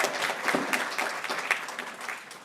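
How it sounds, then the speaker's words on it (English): An audience gives a round of applause at a Native American Heritage Month kickoff event, a dense, even wash of clapping from many hands throughout with no speech over it. "could we have another round of applause for Bobby, the great work he's doing here?"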